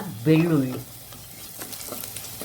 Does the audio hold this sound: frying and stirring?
yes